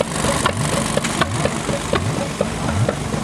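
A small old stationary engine of the kind once used for washing machines runs at a tractor show, chugging in a steady, regular firing rhythm close by against a constant outdoor background.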